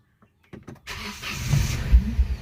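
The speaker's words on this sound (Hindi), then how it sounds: "आप लोग देखिए सिंगल सेल्फ में अपनी जो कार है वो स्टार्ट हो चुकी है।" A diesel car's engine starting on a single crank: quiet at first, a brief whirring starter burst, then the engine catches and settles into a rough, close idle.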